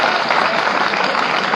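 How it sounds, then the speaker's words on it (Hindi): Loud, dense applause from an audience at a Hindi kavi sammelan poetry gathering, a steady unbroken wash of many hands clapping close up, with no talk over it. "जोरदार तालियों से मुझे बताइए"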